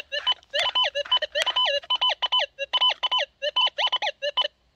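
Rapid, warbling electronic beeps from a Gold Monster 1000 metal detector over a lead ball chirp in quick bursts, rising and falling in pitch, loud and close with no voices.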